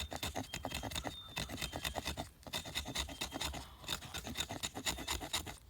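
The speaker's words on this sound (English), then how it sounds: "We'll do a little scraping now with that 90-degree spine." A knife's 90-degree spine scraping along oak hardwood in quick, repeated rasping strokes, close and steady.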